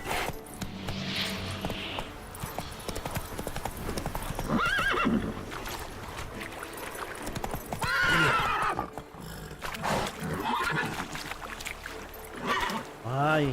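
Horse in The Witcher 3 trotting with steady clip-clopping hooves and letting out several loud, strained whinnies near the middle and end, amid splashing and game sounds, with someone talking at times.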